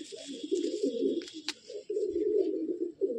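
A Madrasi pigeon kept for breeding in a loft coos in low, throaty rolling phrases, close and fairly clear, with a short pause midway and a faint click, and no talking over it.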